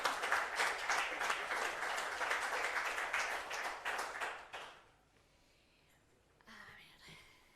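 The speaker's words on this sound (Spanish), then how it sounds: "Os voy a pedir por favor que la recibáis con un aplauso muy fuerte" A university audience at a book talk in Alicante gives a strong round of applause to welcome a poet, dense clapping that fades out after about five seconds, followed by quiet room murmur.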